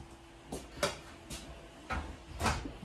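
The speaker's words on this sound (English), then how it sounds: "And then a pots and pans drawer down on the bottom." A pots and pans drawer in a 2023 Jayco Eagle 28.5RSTS RV kitchen thumps and slides, with several short knocks and a rolling rumble at close range.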